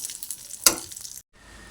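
Walnuts and chopped figs sizzling and frying in a pan, a soft crackle with one sharp stir or clatter midway before a brief silence, quiet and close with no talking.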